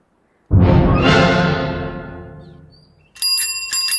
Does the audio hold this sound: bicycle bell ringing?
yes